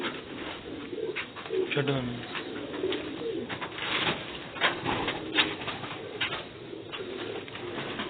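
Pigeons coo repeatedly at close range in a backyard loft, with flapping wings and someone talking over the soft, rolling calls.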